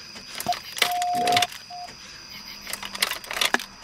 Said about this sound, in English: Okay, you hear the chime, but that's it, nothing.